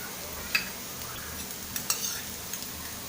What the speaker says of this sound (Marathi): अर्धा चमचा मोहरी टाकूया।